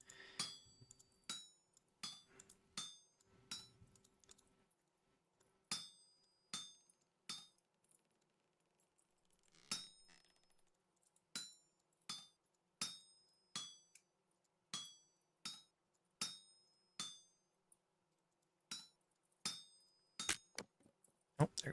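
Hammer smithing in Vintage Story: sharp metallic clinks on an anvil, struck one after another in a steady rhythm with brief pauses, bright ringing tones decaying quickly, nothing else underneath.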